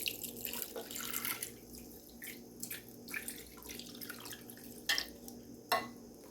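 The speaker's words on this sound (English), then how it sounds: "I'm going to fill this up with water" Water runs from a tap into a pot for cooking chicken, heard close as an uneven splashing and dripping with irregular gaps and a few sharper splashes near the end.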